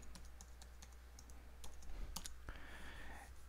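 A password is typed on a computer keyboard in quick, light key clicks with a faster run near the end, close but quiet over a faint background hum.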